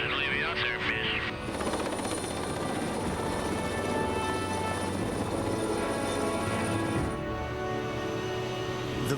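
A Los Angeles County Sheriff's Department rescue helicopter hovers nearby in 1999, its steady rotor and engine drone loud and continuous, with a high whine throughout and brief voices at the start.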